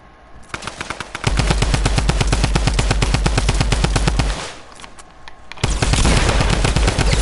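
Rapid SMG fire in a first-person shooter game, loud sustained automatic bursts with a short pause in the middle before another burst, close and dominant with no talking.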